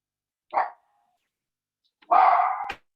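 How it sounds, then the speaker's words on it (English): A single dog barks twice, first with a short sharp bark, then after a pause with a longer, louder bark ending in a snap, fairly close and alone without talk. "Sounded like a barking dog anyway."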